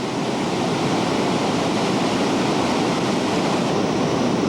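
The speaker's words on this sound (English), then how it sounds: "This is the river we've been following today to a place called Patopani." A Nepalese river rushing through rapids on the way to Patopani, a dense, steady roar of churning water, loud and unbroken with no other sounds.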